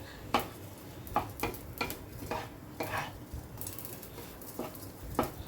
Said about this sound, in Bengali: গোটা জিরে দিয়ে আর তেজপাতাটা দিয়েই আমি চালটাকে একটু ভাজা ভাজা মতো করে নেব। অনবরত কিন্তু নাড়তে হবে।